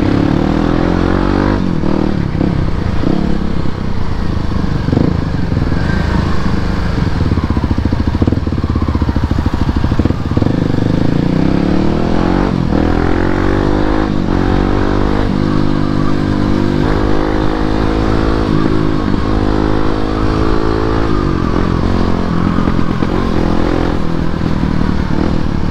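Motorcycle on a Sunday morning group ride through a quiet road, engine loud and close throughout, revving and shifting through gears as it accelerates and leans into corners, with steady wind and road roar underneath.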